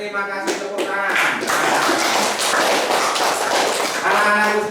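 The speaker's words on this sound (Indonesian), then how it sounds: "terima kasih tepuk tangan." Classroom students clapping hands together at the end of a lesson, a burst of rapid clapping that follows a voice and sits under chanting voices.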